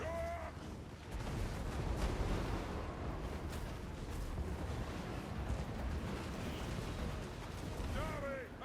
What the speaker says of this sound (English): And our cannons opening fire, doing fantastic work.